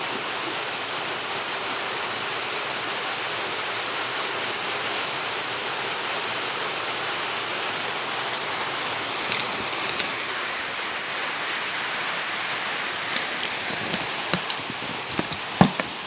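Steady rain falls as a continuous dense hiss, with a few faint taps and drips rising near the end and no voices.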